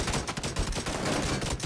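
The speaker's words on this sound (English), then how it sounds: "Shooting from a house?" Rapid gunfire from PlayerUnknown's Battlegrounds crackles in a dense, loud burst of repeated shots lasting under two seconds, with no talk over it.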